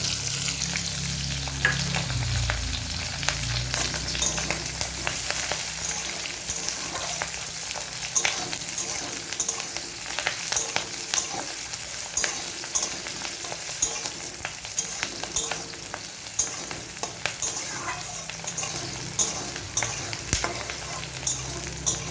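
Onions for egg chilli fry in a pan with a continuous close sizzle and crackle, with frequent stirring scrapes and clicks layered over the frying; no talking is heard.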